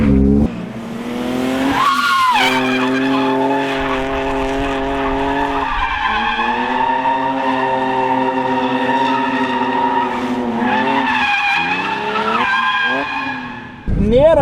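A car drifting at a training session in Madžiūnai lets out a long, loud, wailing tire squeal that wavers in pitch as it slides sideways, with engine revving beneath and short breaks in the screech.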